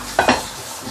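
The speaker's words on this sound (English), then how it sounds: "Can you hear the sizzling sound?" Rice in a clay pot with Iberico boneless ribs gives a brief burst of hot sizzling, with a couple of quick crackles that fade into a soft, steady hiss.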